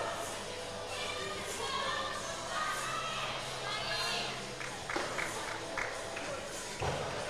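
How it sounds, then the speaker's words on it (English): Spectators at a women's -71kg weightlifting World Cup session give a low, murmuring buzz of support with scattered shouts, while a commentator talks and occasional thuds and taps sound from the platform. "She gets a buzz of support from the crowd."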